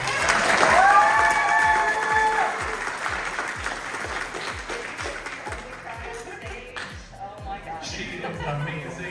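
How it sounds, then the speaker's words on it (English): Crab Con audience applauds a speaker, with a burst of clapping and some cheering that peaks early and then tapers to scattered claps, mixed with chatter and voices from the crowd. "I feel like we need a round of applause for Stacy."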